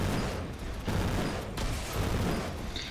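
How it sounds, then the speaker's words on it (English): Continuous gunfire in the video game Armor Attack, a dense, rumbling barrage with a few heavier thumps, steady and fairly loud throughout with no talk over it. "We'll keep on firing down."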